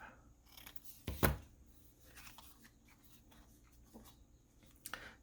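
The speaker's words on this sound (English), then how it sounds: "Cut the corners off." Scissors snip the corners off a paper tag in a quiet room, with one crisp cut standing out and a few fainter snips and paper rustles after it.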